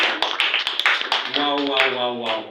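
A church congregation claps in acclaim for Jesus Christ, sharp irregular claps at first giving way to a sustained voice, with speech mixed in.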